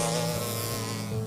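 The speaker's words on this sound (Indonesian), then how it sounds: "Tiba-tiba, dari sarang itu keluar ratusan lebah kecil yang marah." Hundreds of small, angry bees stream out of a hive, their dense swarm buzz a steady, loud droning hum that fills the short moment on its own, with no voices present.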